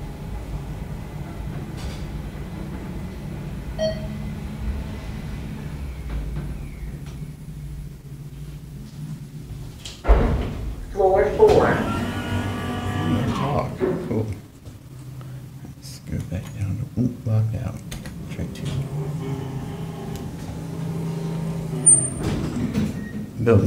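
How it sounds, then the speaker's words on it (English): A brand-new ThyssenKrupp traction elevator in a renovated student center hums and rumbles steadily through the ride, with a louder burst of door and mechanical clatter midway. Someone speaks over it. "Brand new ThyssenKrupp traction elevators in the newly renovated Talley Student"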